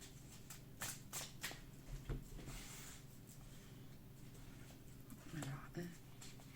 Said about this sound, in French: je vais tirer 9 cartes.